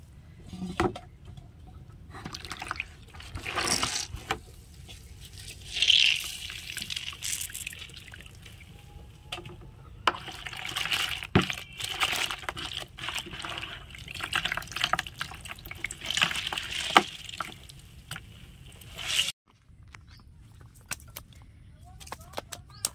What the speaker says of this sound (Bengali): এবার এই যে আমি হাত দিয়ে এইভাবে কিন্তু নিগড়ে নেব, মানে এই যে জলটা একদম নিগড়ে নেব।